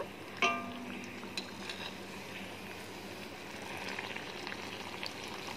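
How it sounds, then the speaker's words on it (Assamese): Assamese tel pitha frying in oil over a medium flame makes a quiet, even bubbling sizzle, opening with one sharp clink from a utensil and followed by a few lighter ticks. "আৰু মই পিঠাখিনি মিডিয়াম ফ্লেমত ফ্ৰাই কৰিম"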